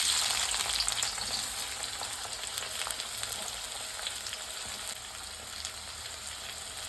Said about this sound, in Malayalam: അപ്പം ഇനി സവാള ചേർത്ത് കൊടുക്കാം.